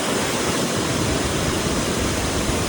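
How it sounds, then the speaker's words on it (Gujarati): Water overflows in a loud, steady rush through four open dam gates, a dense continuous roar close by with no pauses and no voices. "અત્યારે પાણી મસ્ત ઓવરફ્લો છે."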